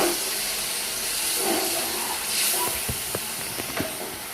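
Onions frying in a pan for chicken maharani, stirred now and then, with a steady hiss of sizzling and a few sharp clinks of a spatula against the pan toward the end.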